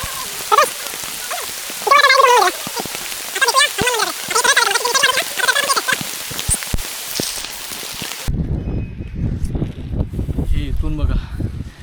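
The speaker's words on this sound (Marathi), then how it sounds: "कसला पाऊस आहे" Heavy monsoon rain pours steadily on the trail up Sudhagad Fort, a dense, constant hiss close to the microphone, while people talk loudly over it for most of the stretch.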